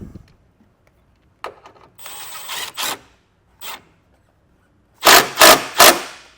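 Ratcheting and clicking bursts as a bolt is run through a ring terminal and snugged onto a factory ground point on a trailer wiring install, in short separated spurts with a louder cluster near the end.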